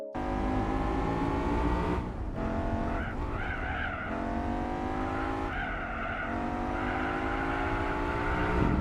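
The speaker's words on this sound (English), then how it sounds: "This car feels very strange to drive. It has a beautiful guttural sound" A race car engine in Gran Turismo 4 drones continuously at high revs, guttural, with pitch sweeping up and down through gear changes and occasional tire squeal, loud and close throughout.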